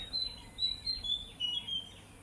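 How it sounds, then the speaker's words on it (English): Birds chirp and sing outdoors in short high repeating phrases, several calls overlapping over a faint background hum. "We're going to go with nature sounds today because the birds are very energetic."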